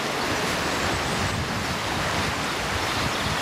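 Floodwater surging over river banks at Williston, West Somerset, a loud, dense, continuous rushing roar with broadband wash and no pauses, close by and without voices.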